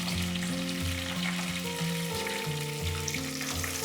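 Dried prawns sizzle in hot oil with garlic and green chili in a Sri Lankan stir-fry, a steady, close crackling fry with occasional stirring scrapes and no talk.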